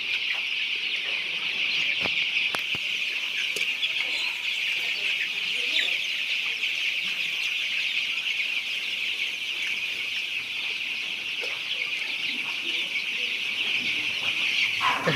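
Sixteen-day-old chicks on a poultry farm floor with dry husk bedding, giving a dense, continuous chorus of high peeping and cheeping from many birds at close range, with an occasional faint tap.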